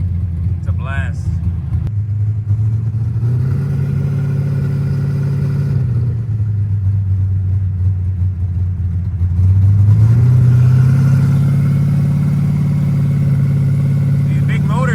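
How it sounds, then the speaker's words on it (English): A 1000-horsepower 427 cubic inch C5Z car with a TH400 transmission drives at speed. Its loud, close engine drones steadily, then rises in pitch and grows louder as it revs and accelerates partway through. "These big motors, man, they really get up quick. They get up super fast."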